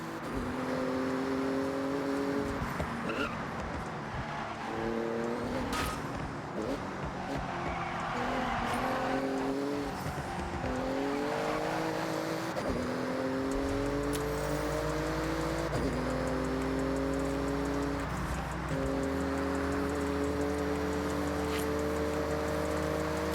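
Porsche racing flat out through a speed zone in Forza Horizon 6, engine note climbing in stepped sweeps through repeated upshifts, with tire noise and a deep rumble building underneath toward the end.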